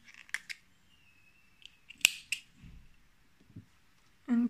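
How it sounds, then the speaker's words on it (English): Scissors snip through crochet yarn after the final loop of a ruffled shoulder bag, giving a few quiet, brief clicks and snips close by, ending in one louder cut. "then we can cut our yarn"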